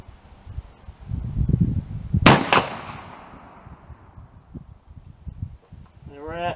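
A single loud, sharp report from a .45 caliber CVA Accura LRX muzzleloader rifle firing at a target outdoors, with a brief decaying echo, amid low background rumble and insect or cricket chirping.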